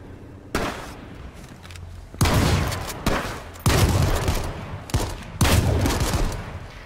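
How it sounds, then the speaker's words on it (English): Gunfire in the video game H1Z1 sounds in several loud, sustained bursts, each a dense rattle of shots separated by short gaps. "Oh, he's shooting at us."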